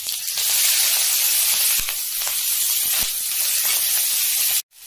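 Green chillies dropped into hot oil with cumin while making crispy poha chiwda namkeen, giving a loud, steady broadband sizzle that holds for several seconds before cutting off abruptly near the end.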